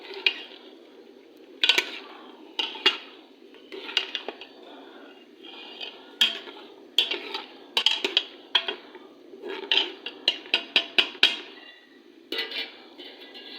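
Spoon scraping and clanking in a pot while stirring minced keema with peas, irregular metallic knocks and scrapes over a low steady hiss, close and fairly loud, no talk.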